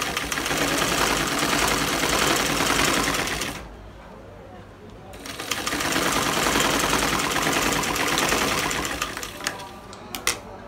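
A sewing machine runs a double line of stitching along a salwar kali panel seam, a fast mechanical chatter that stops briefly midway and then resumes, close up with a voice speaking over it.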